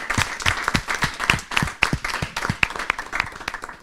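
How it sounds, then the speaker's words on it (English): Applause for bootcamp participants at a demo day, a dense burst of many hands clapping close by, steady and continuous throughout with sharp individual claps standing out. "I'd like to please get a full applaud for all of you in this aspect."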